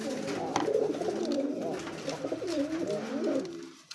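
A male pigeon of a blue-grey racing variety coos continuously at close range, its low, rolling calls filling the whole stretch with no talk.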